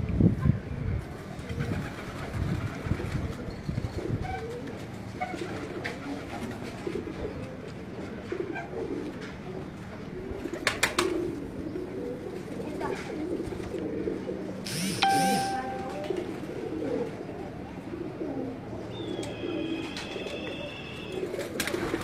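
Pigeon being handled, giving soft low cooing under ongoing rustling and handling noise, with a faint chime-like tone and a few sharp clicks partway through.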